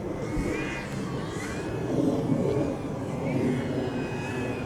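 A radio-controlled model aircraft hovers over a runway at a flying competition, its engine a wavering drone that rises and falls in pitch, heard from a moderate distance against an open-air background.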